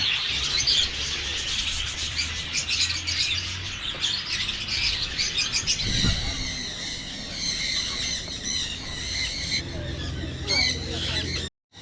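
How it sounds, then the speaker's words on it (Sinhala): Birds at a bird park in Hambantota squawk and chirp loudly and repeatedly, shrill calls layered over continuous background chatter and people talking. "පක්ෂියෙක් තමයි මේ ඉන්නේ"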